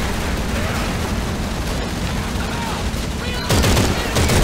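Dense, sustained light machine gun fire in Call of Duty 3, a World War II combat game on the Falaise Road, rattles continuously and loudly with scattered battlefield shots and blasts mixed in, growing heavier near the end.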